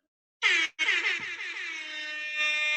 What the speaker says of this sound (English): the classic air horn noise being played off of your phone